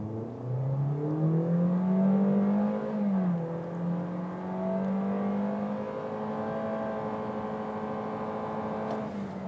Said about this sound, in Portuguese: vamos fazer a nossa largadinha estolada, como a gente sempre faz, né? Estolando o carro e saindo.